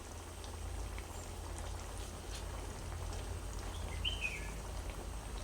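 Onion pathiri frying in hot oil in a shallow pan, a steady close hiss and fine bubbling crackle that holds evenly throughout without any talking.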